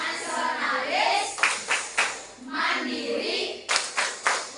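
Elementary schoolchildren standing in a classroom perform a rhythmic PPK clapping chant, with sharp group claps in short bursts alternating with chanted speech from the children and teacher, close and lively.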